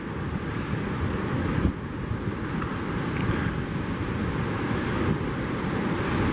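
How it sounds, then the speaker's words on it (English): Fast outgoing water rushing out of the St Lucia estuary, a steady broad wash of surf and current with wind buffeting the microphone, continuous and fairly loud throughout with no talking. "Masses of water going out here at a hell of a speed."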